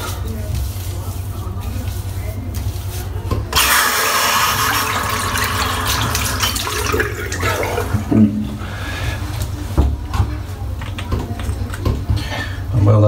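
Running tap water rinsing out a shaving brush after a head shave, a steady close splashing rush that swells loudly partway through, with some wet handling noises and no talk.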